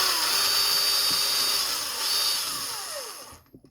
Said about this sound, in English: That way I can hook it up to my drill.